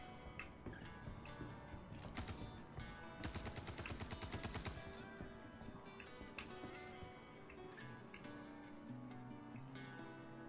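Gunfire in the video game Star Citizen, scattered shots followed by a fast rapid-fire burst, then more sporadic shots, all faint and distant amid ambient game sounds.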